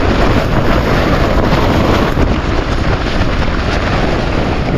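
Strong gusting wind buffets a mountain campsite along the Moose River route in northern British Columbia, a loud, dense roar battering the microphone continuously with no voices.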